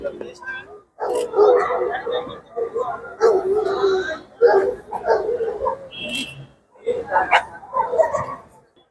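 Dogs barking at a Kennel Club of India dog show in Kolkata, scattered barks and yips among a busy crowd of voices and people talking.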